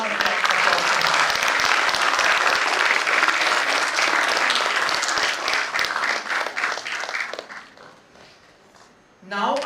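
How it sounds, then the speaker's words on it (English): Loud, sustained applause from an audience at a law school Criminal Justice Research Cell event fills most of the stretch, thinning and fading toward the end before a brief burst of voices returns. "A big round of applause for him."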